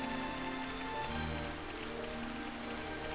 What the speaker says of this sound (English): It's not storming, is it? No, that's not storming. It's just rain.